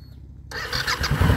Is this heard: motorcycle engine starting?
yes